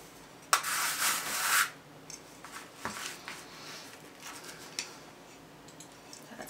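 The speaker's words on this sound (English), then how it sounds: "take a brush or a stick and then rub it down a little bit" Glue being rubbed down with a brush or stick on a floating coffee pot craft: a loud, scratchy rubbing burst early on, then fainter intermittent scrapes and small ticks close by.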